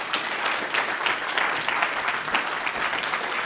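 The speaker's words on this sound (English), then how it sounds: "So let's give them a round of applause." Warm, sustained round of applause from an audience at a Boy Scout troop's 100th anniversary celebration, dense steady clapping filling the whole stretch without a break.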